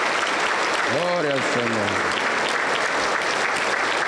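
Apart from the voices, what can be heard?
applause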